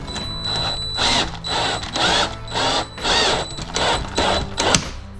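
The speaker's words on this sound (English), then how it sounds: "I'll just take a self-tabbing and self-drilling screw. And this should go through the plastic into the aluminium." A power drill drives a self-drilling screw through plastic into aluminium in repeated short bursts, about six pulses with brief pauses between them, close and fairly loud.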